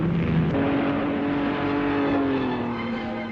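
A 1962 racing car streaking across the finish line: a loud, sustained high engine whine held close throughout, its pitch easing slightly downward near the end.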